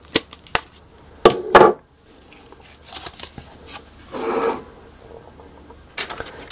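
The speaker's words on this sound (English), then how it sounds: "And we might as well punch our hole now, too. This is just a 1/4 inch hole punch." A quarter-inch hand hole punch cuts through paper in a candy holder craft, giving a few sharp close clicks and crunches with soft rustling between them and no talking.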